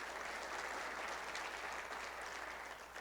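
Applause from a seated audience at a city State of the City address, a steady wash of clapping that holds evenly for several seconds without any talk.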